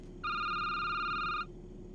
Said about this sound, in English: Oh, the phone is actually ringing.